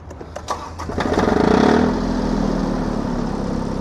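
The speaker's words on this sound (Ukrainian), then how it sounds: "І тоді вже даємо трошки газу та й запускаємо трактор." A small Iseki TU175 tractor diesel engine cranks briefly, catches, and settles into a steady, loud chugging idle.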